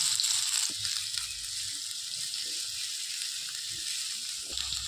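Chopped large onion sizzles in a couple of spoons of oil in a kadai, a soft, steady frying hiss with faint stirring clinks and scrapes, and no voices.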